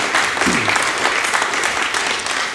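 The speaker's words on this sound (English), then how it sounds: "a huge round of applause for you guys" Live audience at a concert performance clapping loudly and continuously, a dense, sustained burst of applause from a nearby crowd.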